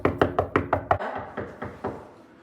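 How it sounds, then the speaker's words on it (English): Six quick, evenly spaced knocks on a door, then three slower, fainter knocks. The sharp raps sound close, with quiet in between, during a school performance of Macbeth. "Here's a knocking indeed."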